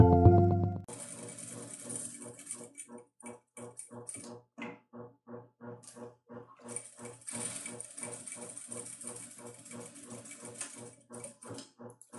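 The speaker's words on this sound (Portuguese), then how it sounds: "Nós vamos à máquina e vamos passar uma costura sobre esse risco feito" A sewing machine stitches along a marked line on fabric for a baby hygiene kit; after a brief loud bump at the start, fast rhythmic needle clatter runs in short bursts with small pauses, fairly close and moderately loud.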